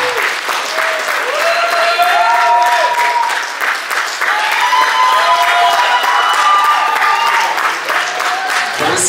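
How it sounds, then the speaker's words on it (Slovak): Wedding guests at Hotel Slovakia in Žilina give a sustained burst of loud applause with cheers and shouts after the couple's first dance, steady throughout and close. "Poprosím vás velikánsky aplaus!"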